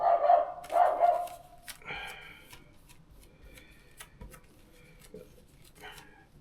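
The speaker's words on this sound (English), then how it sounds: "Two dogs having a bit of a conversation at the front there." Two dogs, a small Scottish terrier and a big Alsatian-type dog, barking back and forth at a distance: a few short barks near the start, then faint scattered yaps over quiet room sound.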